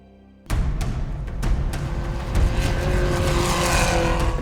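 A rally car on the Raid de Himalaya, heard as a sudden loud engine roar that starts after a short quiet moment and keeps droning near and steady, with brief bursts of rattle and revving over it.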